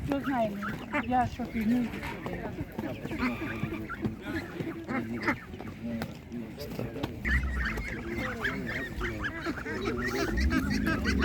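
Geese and chickens, including young geese and roosters, clucking, honking and crowing continuously at a village animal market, with people talking nearby throughout.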